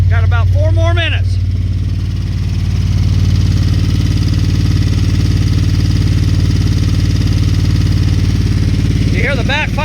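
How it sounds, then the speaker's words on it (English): A Chevy 350 V8 in a '48 Chevy truck on an S10 frame runs steadily during break-in with burned spark plug wires, a loud continuous engine drone with occasional backfires, with speech at the start and end. "You hear the backfiring? That's because those spark plug wires are burned up."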